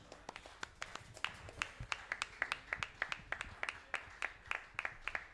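Congregation clapping in a quick, uneven rhythm of distinct sharp claps, fairly faint and close, with a few voices murmuring underneath.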